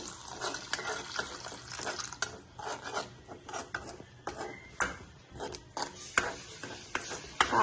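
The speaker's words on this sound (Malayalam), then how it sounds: "കുടിവെള്ളം ഒഴിച്ച് കൊടുത്തിട്ടുണ്ട്." Drinking water poured into a cooking pot in a home kitchen, uneven splashes and trickles mixed with clinks of utensils against metal, close and fairly quiet, with no clear speech.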